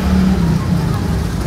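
A remote control car's small engine runs close by, a loud, steady droning hum with a faint whir on top and no talking.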